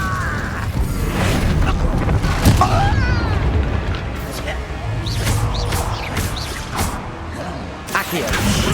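Repeated Incendio fire spell blasts from Hogwarts Legacy burst and crackle in a hard-difficulty trial fight, several sharp booms and whooshes spread across the stretch, with a voice calling out spells between them.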